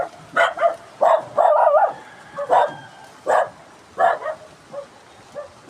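Several dogs bark by a dry riverbed in Dasmariñas, Cavite, giving a series of sharp, fairly close yips and barks in irregular bursts, including one drawn-out whining howl.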